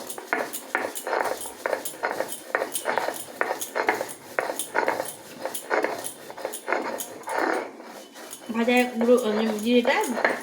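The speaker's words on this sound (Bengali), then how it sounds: "এই জিরে গুঁড়োটা একটু বেটে নেবো" Cumin powder is ground into a paste by hand, a steady rhythmic grinding and scraping repeated in close strokes, followed near the end by a short burst of voice.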